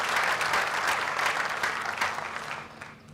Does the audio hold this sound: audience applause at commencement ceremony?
yes